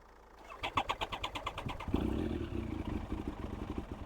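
A Triumph Speed Triple T509 motorcycle cranks with a rapid rhythmic churning, then fires and settles into a rough, uneven idle close by.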